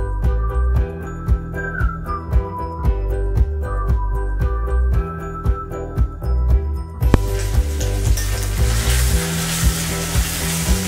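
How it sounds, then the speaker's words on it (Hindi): Onions are frying lightly in a pan, with a sizzle that sits under rhythmic metallic clinks and a tonal whistle at first. After a sharp tap the sizzle turns into a broader, louder hiss. "हमें प्याज को ज़्यादा फ्राई नहीं करना है, हल्का फ्राई करना है।"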